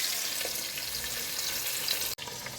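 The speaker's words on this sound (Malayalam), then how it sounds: "ഒരു അടപ്പ് വെച്ച് ചെറുതായൊന്ന് അടച്ച് ആദ്യം നമുക്ക് സിമ്മിലിട്ടൊന്ന് ഫ്രൈ ചെയ്തെടുക്കാം" Fish frying on low heat in a covered pan, Kerala style, a steady even hiss of oil close by that drops out for a moment near the end before resuming, with no speech.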